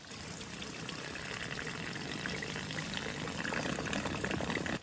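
A water intake pipe inlet sitting barely below the surface of a low-flow creek, sucking air with a continuous gurgling, trickling slurp close by that grows slightly stronger over the few seconds.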